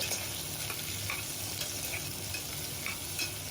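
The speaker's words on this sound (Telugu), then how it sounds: "ఉల్లిపాయ ముక్కలు బాగా ఫ్రై అవనివ్వాలి." Sliced onions and slit green chillies fry in a pot with steady close sizzling, interrupted by occasional light scrapes and knocks of stirring, and no voices.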